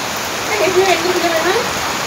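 A steady, loud rush of heavy rain and wind fills the air while a voice speaks briefly over it.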